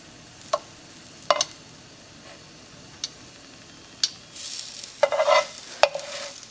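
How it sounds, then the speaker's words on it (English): A taco crisping in a hot pan, heard as a soft, steady sizzle with a handful of sharp, separate clicks and taps from a utensil, then a louder burst of spitting near the end. "I'm going to continue to cook this taco until it's nice and crispy the way I like it and soft on the inside"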